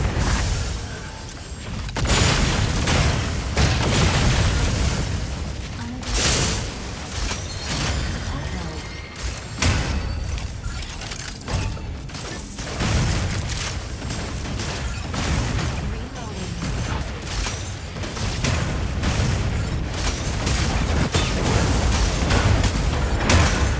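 Repeated turret blasts and explosive bursts from the Mecha Break mech game fill the scene, loud and dense with a heavy low-end rumble, pulsing in clusters under a voice talking over the action.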